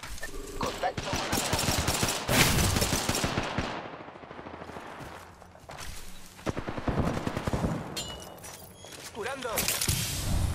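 Rapid automatic gunfire in the Apex Legends battle royale, bursts of dense shots crackling close and loud through most of the stretch with brief lulls, footsteps and a voice shouting over the action.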